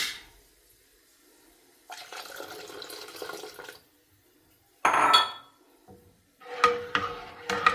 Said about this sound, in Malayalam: നമുക്കിതിലേക്ക് പാലൊഴിച്ച് കൊടുക്കാം